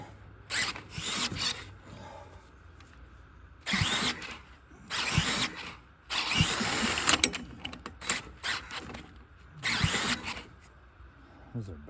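A bigger power drill turns over a 10,000 watt generator in repeated whirring, grinding bursts of uneven length, some brief and some sustained, separated by quiet gaps, with no sign of the engine firing.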